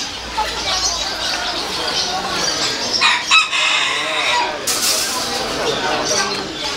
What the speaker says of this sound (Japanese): ニワトリさん